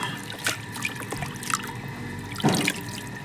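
Water splashes and trickles while groceries are rinsed by hand, with uneven bursts of pouring and handling noise close by.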